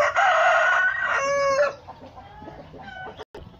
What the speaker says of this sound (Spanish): Son gallinas muy muy finas, gallinas muy hermosas